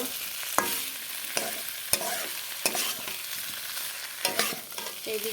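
Spice paste sizzling in oil in a pan as it is sautéed for a ridge gourd and potato fish curry, with a continuous crackling fry broken by several sharp scrapes of a spoon against the pan, close and without speech.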